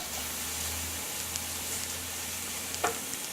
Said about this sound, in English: we're going to sauté this bacon until the fat has rendered from the bacon and the bacon itself is nice and crisp